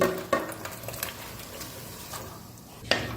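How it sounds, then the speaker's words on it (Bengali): Marinated bottle gourd goes into a pot of boiling water for a spice-free vegetable curry and is stirred, giving faint soft scrapes and a few sharper utensil knocks over a low bubbling hiss. "জলটা দেখুন খুব ভালো করে ফুটে উঠেছে এবার ম্যারিনেট করা লাউটা এর মধ্যে দিয়ে দিচ্ছি"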